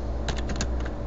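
Typing on a computer keyboard, a short burst of several quick keystrokes clustered near the middle, alone over a steady low background hum.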